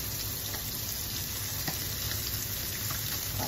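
Adobong sitaw frying in a pan just after tomatoes are added, a loud, steady sizzle that continues without pause and with no voices.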